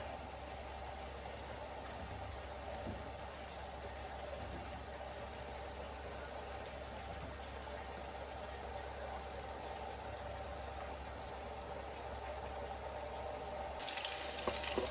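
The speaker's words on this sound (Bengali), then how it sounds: "চিংড়ি মাছটা কষে গেছে এখন আমি সব সবজিগুলো দিয়ে দেব" Prawns and mixed vegetables frying in a pan, giving a steady, even sizzle that holds unbroken throughout at moderate loudness, with no speech.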